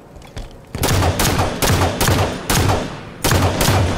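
Gunfire from the shooter game Halo 5 during a ranked Slayer match is heard as repeated loud bursts of rapid shots, each followed by a short lull, with no voices.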